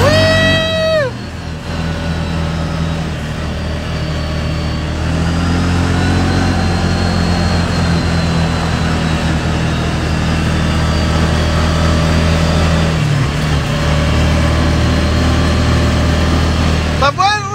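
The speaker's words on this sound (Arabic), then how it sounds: "دير بالك من السيارة" A car engine runs nearby on a street in Turkey, idling and rumbling steadily for most of the stretch. People talk over it at the start and near the end.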